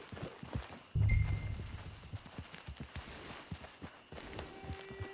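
Steady clip-clop of a horse's hooves at a walking pace in the video game Red Dead Redemption 2 Online, a muffled thump near the start, with faint ambient noise throughout.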